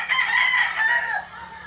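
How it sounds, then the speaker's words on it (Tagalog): A rooster crows once, a drawn-out call that rises and falls, heard fairly close against quiet background. "Eh, yun naman manok na yan."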